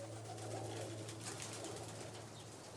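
Pigeons coo faintly at a dovecote on the Greek island of Tinos, with a soft flutter of wings, all under steady broadband noise.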